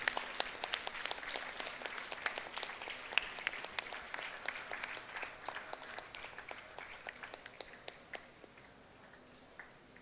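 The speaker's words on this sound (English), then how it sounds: "Crowd, a big applause, please." Audience applause at a ceremony honoring a college principal, a large crowd clapping loudly at first and then slowly fading over about ten seconds.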